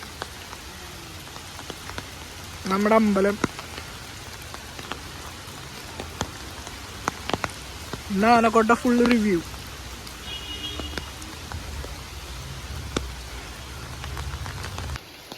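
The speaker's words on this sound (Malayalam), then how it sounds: "വെള്ളമൊക്കെ ഫുള്ളായി നല്ല മഴയാ" Heavy rain pours steadily at an elephant yard, a constant hiss of drops hitting surfaces throughout, while someone speaks briefly twice over the downpour.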